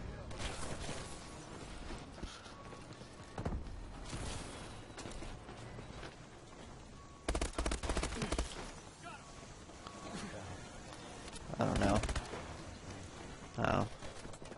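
Gameplay gunfire from Call of Duty: Advanced Warfare, with a triple shotgun in use: bursts of shots in short clusters mixed with mechanical clatter, loud against a steady game soundscape, with talk over the top.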